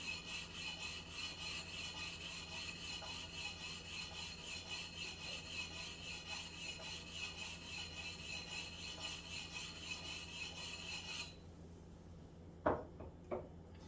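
Axe sharpening on a Council Tool Jersey, a Hoffman farm axe or a cruiser axe: a steady, rhythmic rasp of a file or stone stroking the steel, close and continuous, ending with a few sharp knocks.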